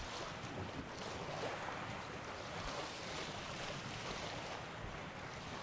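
Waves wash and wind rushes continuously around a sailing boat at sea in The Witcher 3: Wild Hunt, a steady, even wash of water and gusting air with no voices.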